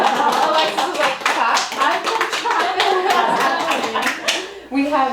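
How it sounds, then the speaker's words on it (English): Small group clapping hands in a short round of applause during an interview, close and lively, with people talking and laughing through it. "Round of applause."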